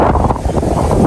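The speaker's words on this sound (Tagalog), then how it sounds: "Napakalakas po ngayon ng hangin." Strong wind over rice fields buffets the microphone with a steady, loud rumbling roar that carries through the whole moment.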